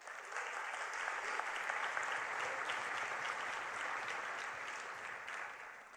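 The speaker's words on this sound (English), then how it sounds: "So guys, please give Steve a round of applause." An audience at a Hult Prize 2019 event at the United Nations applauds steadily for Steve, a dense, even wash of many hands clapping that holds at a moderate distance and fades slightly at the end.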